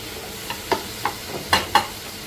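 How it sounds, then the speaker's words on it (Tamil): Crushed tomatoes and fresh curry leaves being sautéed in a pan for Sankara fish curry, with a few soft stirring scrapes and a light sizzle at close range, no talking. "நல்லா தக்காளியை நசுக்கி விட்டு வதக்கிக்கோங்க"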